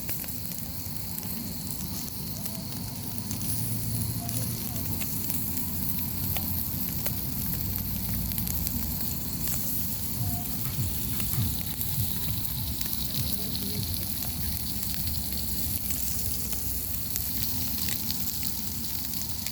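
Steady crackling sizzle from a charcoal mangal barbecue grill cooking chicken wings outdoors in Kuşadası, a continuous close hiss with dense popping and a low rumbling bed throughout, no talking.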